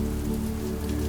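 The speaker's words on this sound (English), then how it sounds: "letting the sound of the rain" Rain falls steadily on a window, a soft continuous patter of drops over a low, constant background hum.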